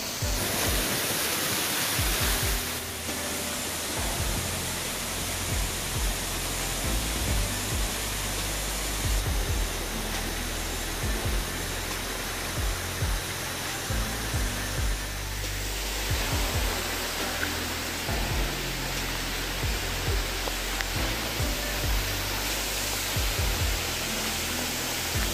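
Paloorkotta Waterfall near Puzhakkattiri, Kadungapuram, roars as a steady, dense rush of falling water that fills the scene without a break.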